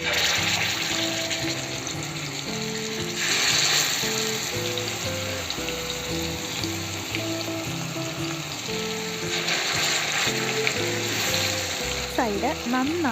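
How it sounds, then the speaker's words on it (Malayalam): Chicken pieces marinated for two hours are dropped one by one into hot oil for deep frying, producing a loud, continuous, close sizzle and bubbling over steady background music. "അപ്പം നമുക്കിതിലോട്ട് ഓരോന്ന് വറുക്കാനായിട്ടും ഇടാം."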